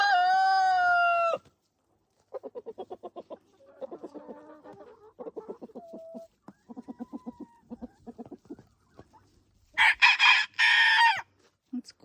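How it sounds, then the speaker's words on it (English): A small young rooster with laryngitis gives a short, hoarse, strained crow, then a run of close, rhythmic clucks and squawks, ending in a loud, harsh burst. "It's quite the little crow you have."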